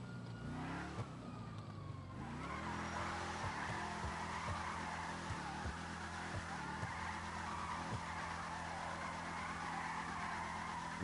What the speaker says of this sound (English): You do small drift circles